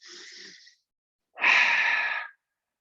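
Breathing during a yoga session: a soft, airy inhale lasting under a second, a pause, then a louder, fuller exhale of about one second, heard close and alone.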